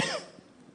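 One short, close cough with a rough burst that fades within a fraction of a second into quiet room noise.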